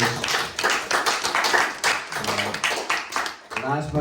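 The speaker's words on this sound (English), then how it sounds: "So please, another round of applause for all of their gurus." A small audience at a house concert claps for the music teachers in short, uneven bursts with brief dips between them. Spoken voices come through alongside the clapping.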